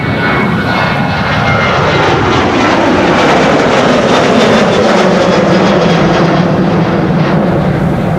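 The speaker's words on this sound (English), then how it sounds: "Yep, already taking off via Cheaters Lane" A lightly fuelled airliner bound for Eindhoven departs Amsterdam Schiphol Airport, engines roaring loud and close throughout, with tones that sweep downward as it climbs away.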